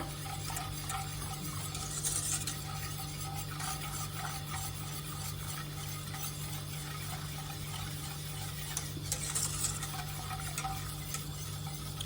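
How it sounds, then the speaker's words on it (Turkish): A spoon stirs milk pudding in a pot with a steady scraping, swishing rhythm over a low continuous hum, with no voices. "Hiç bekletmeden sürekli karıştıralım."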